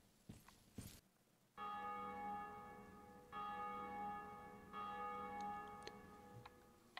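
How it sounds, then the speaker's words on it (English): A bell rings in the video game Dark Souls, three long resonant strikes spaced a couple of seconds apart, each leaving a humming, slowly fading tone after a few soft clicks at the start. "Okay, well, the bell just rung"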